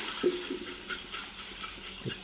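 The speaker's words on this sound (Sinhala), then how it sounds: "පාන් පිටි එකයි බටර් එකයි මික්ස් කරාට පස්සේ අපි දාගන්නවා අපි හදාගත්ත ස්ටොක් එක." Stock is poured into a flour and butter roux for veloute sauce, giving a steady close hiss and sizzle with a few soft bubbling pops throughout.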